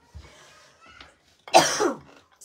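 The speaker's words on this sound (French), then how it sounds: "Je vais tousser toute la vidéo" A woman coughs indoors: a short soft cough, a faint throat sound, then one louder harsh cough burst near the end, close and separated by quiet gaps.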